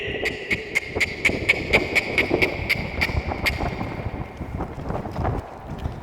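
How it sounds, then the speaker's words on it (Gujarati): Strong wind buffets the microphone with a constant low rumble in a village at morning, while a rhythmic clopping of cattle hooves passes in the first half. "આપણે પવન બહુ છે અત્યારે"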